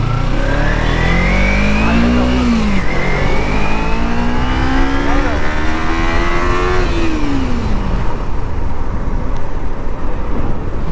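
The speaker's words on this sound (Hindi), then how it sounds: "अब चंदू भाई चला के देखते हैं गाड़ी कैसी है।" Kawasaki Ninja motorcycle engine revving loud and close, pitch climbing through gear changes as it pulls away, then easing off toward the end.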